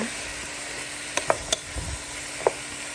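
Chicken tinola with malunggay leaves and chayote stirred in a pot, giving a steady soft sizzle and simmer with a few sharp utensil clinks and scrapes standing out near.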